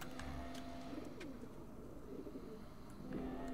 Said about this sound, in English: You got birds in there?